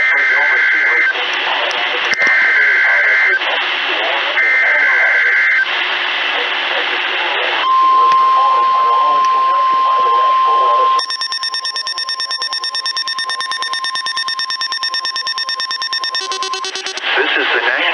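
National Weather Service broadcast from the Missoula office during an emergency alert test: a radio announcer talks, then steady piercing electronic alarm tones take over, first a single pitch and then a harsh dual tone, loud and continuous.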